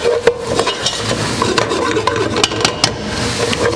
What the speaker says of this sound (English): we're letting it cook for just a minute to release all the gluten in the flour